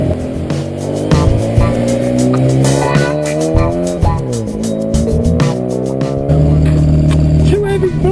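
Mk1 classic Mini with two heavy occupants driving uphill at the Brighton speed trials, its engine droning loud and steady from inside the car with gear changes, while people talk over it.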